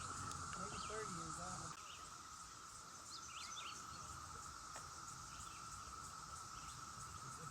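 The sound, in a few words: cicadas buzzing with birds on a Kentucky mountain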